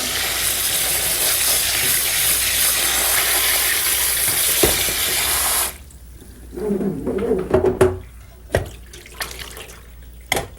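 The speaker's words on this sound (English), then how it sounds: "Cold water." Water gushes steadily from a tap for several seconds, then cuts off, leaving wet clattering and knocking of potatoes rattling in a sink after a cold-water rinse.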